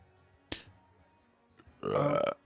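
A single sneeze in a quiet room, starting with a sharp catch of breath and then a loud, voiced burst lasting about half a second, close and alone with no talk.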